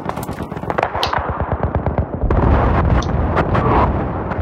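Tank cannon fire and explosions in the video game Battlefield 3, loud booming blasts and crackling bursts in rapid succession, then a dense rumbling barrage.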